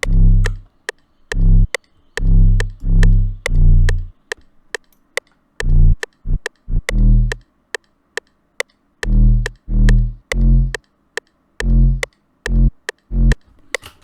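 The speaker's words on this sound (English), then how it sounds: "So the 808 sounds like this." Deep booming 808 bass drum hits with long sustained low tails play in a sparse rhythmic pattern over crisp ticking hi-hats, loud and up front.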